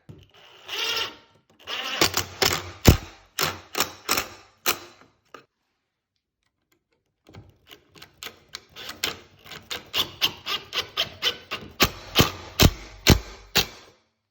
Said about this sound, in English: And now we're going to join these together, and then that way we can use this whole thing as a template. Probably use some pocket screws.